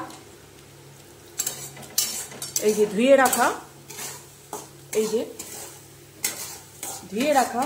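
Washed fenugreek leaves hit a hot pan for a lentil dal, sizzling in short bursts while a utensil stirs and scrapes against the metal at close range.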